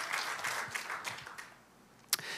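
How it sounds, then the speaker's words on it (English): Congregation in a gym during a sermon on marriage gives a brief, faint patter of applause that fades out, ending with a sharp single knock. "give us a round of applause right now"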